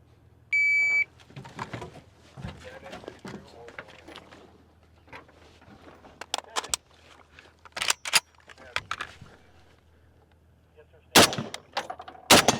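A timer beeps once at an outdoor action rifle match, then rifle shots crack out in an irregular string of sharp, loud reports over about ten seconds, with people talking in the background.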